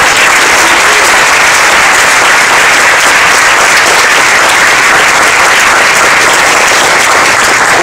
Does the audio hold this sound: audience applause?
yes